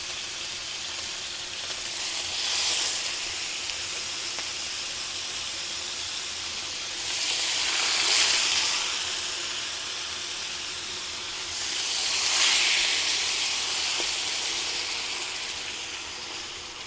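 Teriyaki chicken frying in a pan gives a steady close hiss, swelling three times into louder bursts of sizzling and splattering before easing back.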